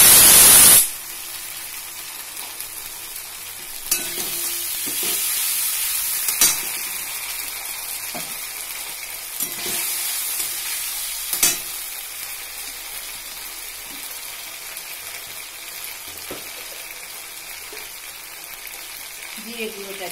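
Ginger paste sizzles and spits in hot oil in a pan for a fish-head moong dal, a dense crackling hiss with scraping stirs at intervals, loud at first and then settling.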